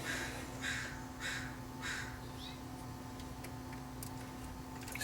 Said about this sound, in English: all those crows out there making all that racket